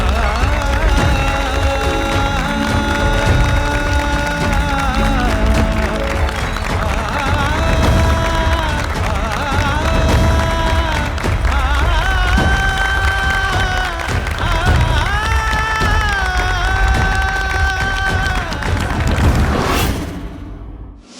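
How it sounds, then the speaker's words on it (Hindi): Audience applause and cheering for Dharampal ji on a Hindi TV comedy show, a continuous wash of clapping blended under loud music for about twenty seconds before fading out abruptly. "तो हमारे प्यारे धर्म जी के लिए जोरदार तालियां हो जाए।"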